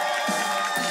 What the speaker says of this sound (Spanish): démosle un fuerte aplauso a la familia Silverman